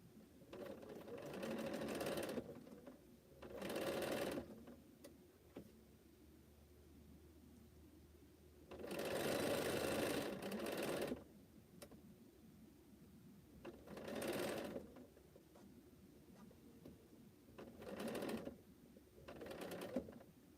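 A sewing machine runs in several short bursts, stitching a straight seam on Cleopatra's Fan quilt blocks, with quiet pauses between each run of rapid needle clatter.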